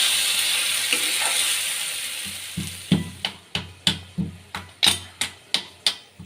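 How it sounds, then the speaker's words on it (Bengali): Chicken frying in a covered pan with cashews and raisins, a hiss of sizzling fading out before a run of evenly spaced sharp knocks, about one every half second, loud and close. "এবার এটা কিন্তু ঢাকা দিয়ে দিয়ে ভাজতে হবে।"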